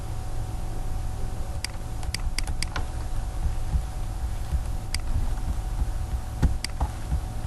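Sparse, crisp keystrokes on a computer keyboard while typing a search query, scattered single taps and short clusters over a constant low electrical hum.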